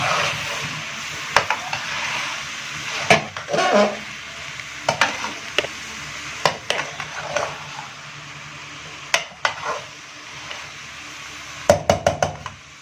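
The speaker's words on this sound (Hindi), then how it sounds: "अब जो तमाम मसाले हैं उनको हम मिक्स कर लेंगे।" Spices stirred and mixed in a frying pan for aloo gobhi, with a low sizzle under repeated sharp knocks and scrapes of a spoon against the pan, irregular and close, no speech.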